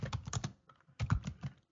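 Keys clatter on a computer keyboard in two quick bursts of typing, close and fairly quiet, with a short pause between them and silence at the end.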